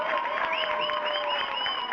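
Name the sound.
audience applause for the band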